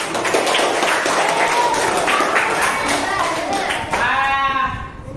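Classmates in an Indonesian classroom clap for a student group in a short burst of applause that blends with children's voices and chatter, and a voice rises clearly near the end.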